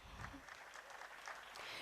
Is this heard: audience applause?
yes